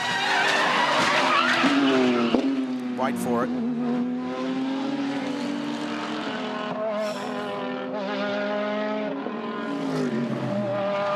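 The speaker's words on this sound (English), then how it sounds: "That's what 200 Ks into a stopped car sounds like." A GT3 race car slams into a stopped car at about 200 km/h during the Bathurst 12 Hour endurance race, a sharp impact and brief screech cutting through loud, droning race-car engines while a commentator talks over them.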